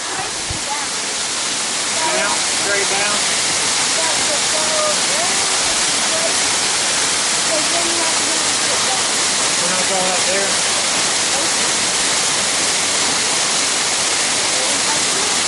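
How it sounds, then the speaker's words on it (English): A steady, loud roar of a waterfall along the Collins Trail in Savage Gulf fills the whole stretch, with people talking briefly over it. "Waterfalls."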